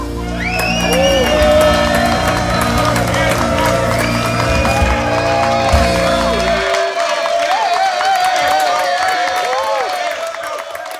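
A studio audience applauds and cheers after a live TV duet, dense steady clapping mixed with whoops, starting over the fading closing notes of the music and then carrying on alone, loud and close.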